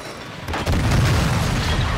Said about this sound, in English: Using drone charge!